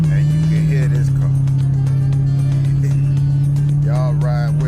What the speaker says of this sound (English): y'all hear that air, y'all hear that exhaust